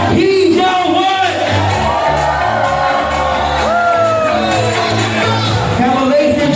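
Wedding reception guests cheer, whoop and shout together at high volume, a continuous crowd roar layered over steady background music with a few rising yells standing out.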